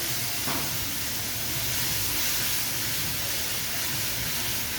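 Water poured into a hot cooking pot for a Punjabi dish, giving a steady broadband hiss of steam that stays fairly constant at moderate loudness, with no talking.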